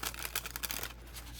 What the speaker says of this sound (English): I'm going to see how these shuffle, okay?